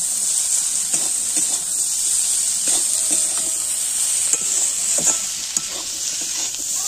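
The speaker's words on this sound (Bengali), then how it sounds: "সেটা দিয়ে আমি ভালো করে নাড়াবো।" Spices with ground cumin and gima saag greens frying in a pan are stirred steadily, giving a continuous close sizzle broken by scraping strokes of the spoon.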